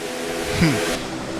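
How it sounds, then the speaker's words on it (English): Race car engines roar past on the back and front stretches in the NASCAR Racing 2003 video game, a quick burst with a rising and falling whine sweeping by over a dense mechanical drone. "Listening to these cars roar down the back stretch and the front stretch."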